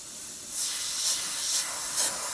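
Airbrush paint spray from an Evolution CRplus with a 0.45mm setup at 20 psi, heard as a faint steady airy hiss swelling in four short repeated bursts, close and otherwise quiet.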